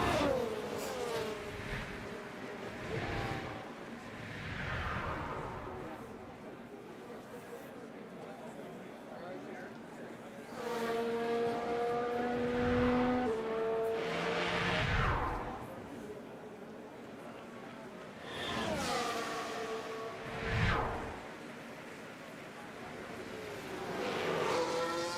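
A Formula 1 car in F1 Manager 24 runs a flying lap in Las Vegas, its engine note rising and falling through gear changes and revving in waves beneath near-constant talk.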